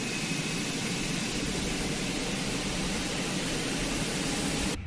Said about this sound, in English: Good APU startup sound.